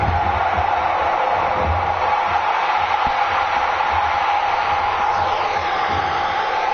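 A wrestling arena crowd in WWE 2K17 cheers and roars continuously, a dense, loud wash of voices holding steady throughout with no pause.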